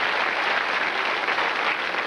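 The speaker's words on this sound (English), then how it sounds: "Let's cheer them on with an encouraging round of applause." Studio audience applauding game show contestants on a 1990s quiz programme, an even, sustained round of clapping at moderate volume with no break.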